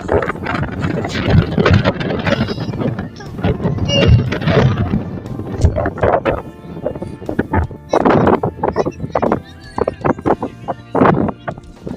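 Gusty wind buffets the microphone in loud, uneven bursts, with muffled voices talking intermittently underneath.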